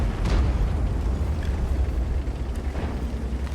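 A tank shell hit explodes in the World of Tanks video game, a deep rumbling blast that rolls on with a heavy low-end boom and faint crackles, loud and with no talk.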